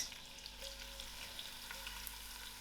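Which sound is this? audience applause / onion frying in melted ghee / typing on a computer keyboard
onion frying in melted ghee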